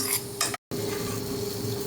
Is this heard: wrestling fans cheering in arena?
no